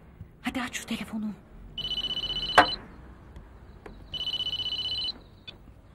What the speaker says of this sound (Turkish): Hadi aç şu telefonu.